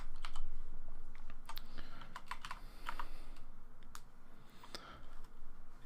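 Typing on a mechanical keyboard fitted with Cherry MX Brown switches, with irregular bursts of close, crisp keystrokes running throughout and occasional brief pauses.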